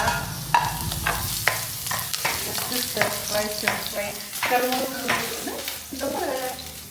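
Garlic sizzling in a hot stir-fry pan, with a continuous frying hiss broken by repeated scraping stirs, and a voice faintly present in the background.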